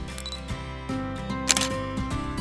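Several crisp shutter clicks from a camera with a standard zoom lens, set to 1/1000 s and shooting spring foliage, land about every half second over soft background music.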